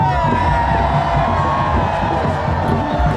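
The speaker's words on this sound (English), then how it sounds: "We want to hear you cheer." A festival crowd of the Vietnamese Canadian community at Surrey Fusion Festival 2024 cheers loudly and continuously, with whoops, shouts and sustained high voices mixed into a dense, close roar.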